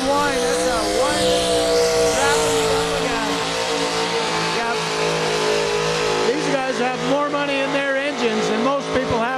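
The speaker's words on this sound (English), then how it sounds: "if you listen to that thing whine, it's a whine." A powerful pulling tractor's engine whines loudly and continuously at a truck and tractor pull, its pitch rising and wavering under strain, while a voice talks over the roar.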